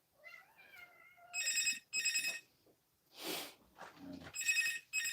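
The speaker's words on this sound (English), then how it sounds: "And there's a phone ringing." A telephone rings in repeated short trilling bursts, with a few other faint sounds and quiet noises between the rings.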